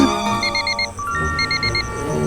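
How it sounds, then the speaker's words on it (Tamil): An alarm clock rings in short repeated beeping bursts, two clusters of quick pulses with a steady tone between, heard over a busy background of music and room sound. "அலாரம் அடிக்கும் பாரு"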